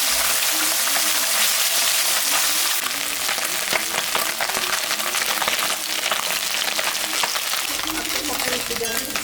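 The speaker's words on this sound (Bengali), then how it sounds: "মাছটা ভাজা হয়ে গেছে" Fish frying in mustard oil gives a dense, loud, continuous sizzle that rushes without pause, close up, with faint clinks and a hint of voice in the background.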